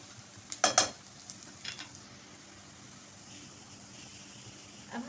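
Cumin seeds hitting hot oil in a cooking pot for moong dal give a sharp burst of sizzle and clatter near the start, then a quieter steady frying hiss that continues to the end.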